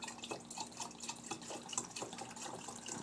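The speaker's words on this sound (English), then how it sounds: "So I would pour it into my water line." Dense phytoplankton culture poured into a water line: a continuous wet trickle and splash with scattered drips, fairly close and steady throughout, with no talk.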